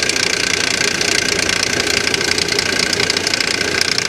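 A 2020 Mercedes G63 AMG engine idles with a loud, rapid, continuous knocking and ticking rattle, a possible failing pulley or timing chain, heard close up and steady with no talk.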